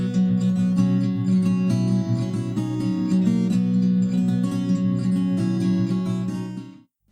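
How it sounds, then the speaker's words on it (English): The same guitar melody played inside a bathroom, continuous plucked notes with a slightly longer reverberant tail, moderately loud and alone, fading out at the end. "And here is the same melody inside a bathroom."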